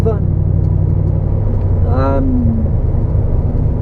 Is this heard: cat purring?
no